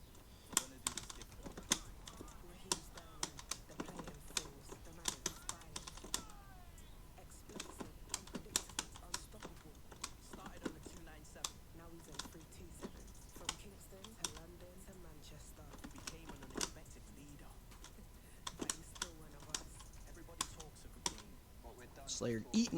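Rapid typing on a computer keyboard during a Guilty Gear XX Accent Core Plus R tournament, dense irregular clicks and key taps throughout, with voices talking now and then.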